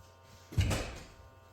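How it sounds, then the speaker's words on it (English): The door of a 1976 Porsche 930 Turbo opens with a single short, dull thunk and latch release, close by against a quiet background. "you'll see when I open the door"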